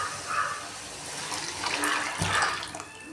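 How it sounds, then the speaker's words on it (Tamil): Tamarind water and masala are poured into a pan of field crab curry, making a steady liquid gush and splash at moderate level with brief louder surges, no voices. "இப்போ வந்து இந்த புளி கரைசல் மசாலா எல்லாமே இதில் ஊற்றிக்கப்போம்"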